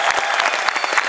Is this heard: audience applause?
yes